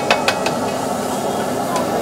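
Eggs mixed and frying in peanut oil on a hot street-food griddle in Bharuch, India, a steady close sizzle with a few sharp scraping taps near the start and again toward the end.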